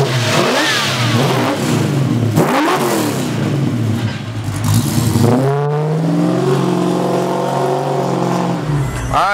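A 1967 Ford Mustang Fastback restomod's engine revs up and settles, rising and falling pitch clearly audible and close, with no talking over it.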